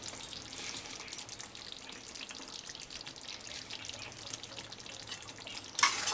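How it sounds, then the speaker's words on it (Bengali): Pointed gourd and potato curry with sugar and spice paste being stirred in a hot pan, a steady soft sizzle with light scraping and wet mixing sounds throughout, ending in a brief sharper clatter. "খুব ভালো করে মিশিয়ে দেব।"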